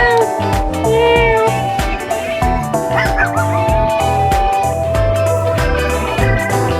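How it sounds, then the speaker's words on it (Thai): A cat meows on a street in Hanoi, its cries mixed into steady, loud background music that runs throughout. "เฮ้ยเจอน้องแมว"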